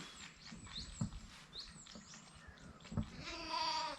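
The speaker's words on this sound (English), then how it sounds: "There are 30 lambs in this shed" Lambs bleating inside a shed holding thirty lambs during indoor rearing, several high wavering calls scattered across the moment with patter and shuffling, ending in a longer, louder nearby bleat.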